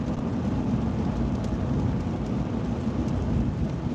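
Rain mixed with sleet falls in a steady, dense hiss with a low rumbling wash underneath, continuous and fairly loud, with no voices.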